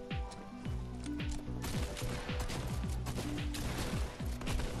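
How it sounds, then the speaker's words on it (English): Rapid bursts of gunfire in a Fortnite duo match, dense overlapping shots and sharp impacts crackling continuously and loudly throughout, with no talk. "They're shooting"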